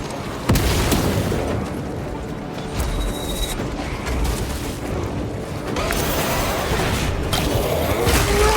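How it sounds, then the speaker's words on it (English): A frag grenade blast in the Warhammer 40K: Space Marine 2 video game, a loud booming burst amid a chaotic battle din of crashes and further explosions over several seconds. "Sending frag grenade."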